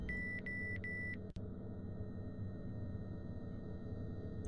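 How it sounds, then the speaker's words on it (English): Three quick electronic beeps ring out in the Bioscopia video game, evenly spaced and clear over a low steady hum, followed by a single soft click and then only the hum. "Thank you for that beeping."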